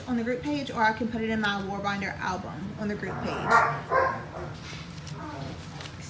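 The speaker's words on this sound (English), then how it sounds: "Excuse my dogs, y'all. They're a little crazy." Dogs in a home bark and yip in short bursts partway through, mixed under someone speaking continuously in the foreground.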